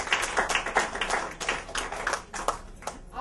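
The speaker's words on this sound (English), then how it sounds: "let us give Lindsay, or Chief Operating Officer, and of course, Sheila Lubien," Sustained applause from an audience at a corporate awards media launch, dense overlapping clapping at steady loudness throughout, with no clear pauses.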